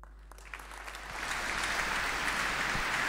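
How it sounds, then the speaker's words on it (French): A congregation in the Reims-Ardennes diocese applauds its deacons during a church service, steady crowd clapping that starts sparse and thickens into a sustained, reverberant wash. "Toujours des applaudissements pour nos diacres dans le diocèse de Reims-Ardennes"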